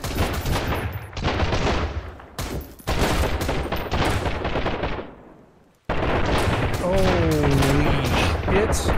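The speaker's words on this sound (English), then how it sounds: "Oh, they're shooting me in the butt!" Enemy gunfire in the ocean survival video game Sunkenland, loud rapid bursts of automatic shots close by and crowding together, under an excited player's shouting.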